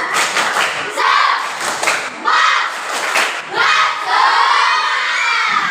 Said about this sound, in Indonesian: Tepuk semangat yang pertama.